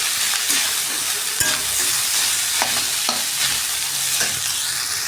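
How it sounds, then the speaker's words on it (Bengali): A spoon stirs Maggi masala into food frying in a pan, giving steady scraping and clacking over a continuous sizzle, close and fairly loud, with no voices. "এটা নাড়াচাড়া দিয়ে মিক্স করে দিচ্ছি"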